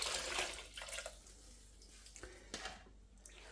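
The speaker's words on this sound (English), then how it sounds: "I'm going to do another rinse just with warm water, no soap" Warm rinse water runs and splashes softly as alpaca fleece is washed by hand in a basin, a faint intermittent trickling with small sloshes and drips.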